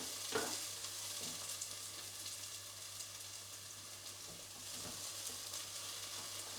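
Spring onion stir-frying in a pan while being moved around constantly, a quiet, steady hissing sizzle with occasional soft scrapes and taps of the utensil.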